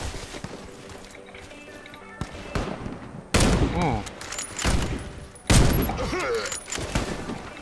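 Heavy shots from an AT308 sniper rifle in Warface, two loud booming cracks a couple of seconds apart with ringing tails, amid other game noise and a voice speaking over it.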